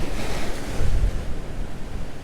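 Ocean waves break on rocks at Dream Beach, Nusa Lembongan, Bali: a continuous loud roaring wash of surf with a heavier surge near the one-second mark, buffeted by wind noise.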